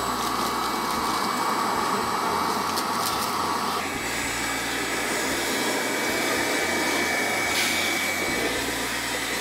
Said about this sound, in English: look at this suction. You see that suction? That's intense suction.